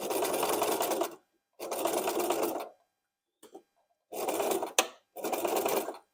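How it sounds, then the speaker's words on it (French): A sewing machine stitches a seam along the full length of fabric for an Easter basket. It runs in four loud, steady bursts of about a second each, with short pauses and a faint click between them. "Et allez, on coud sur toute la longueur."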